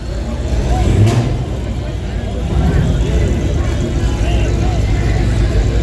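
At a drag strip a Hellcat idles and rumbles nearby, a deep, steady engine burble with light revving, while other vehicle noise continues in the background.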